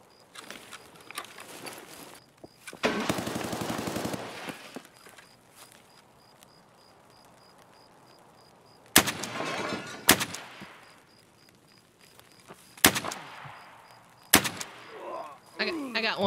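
Gunfire in the video game Escape From Tarkov: a short rapid burst early, then several sharp single shots spaced a second or two apart, mixed with faint movement noises and ambient game sound.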